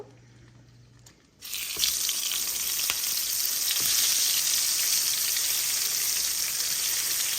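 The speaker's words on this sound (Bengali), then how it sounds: "আমি কয়েক টুকরা বেগুন মেখে রেখেছি, ওটা আমি এখন ভেজে নিব।" Slices of eggplant hit hot oil after a second of near quiet, and a loud, dense, even sizzle starts at once and holds steady to the end, close up and alone.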